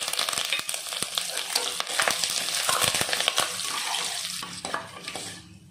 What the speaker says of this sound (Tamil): சீரகம், வெள்ளை உளுத்தம் பருப்பு நல்லா பொரிஞ்சிருச்சு.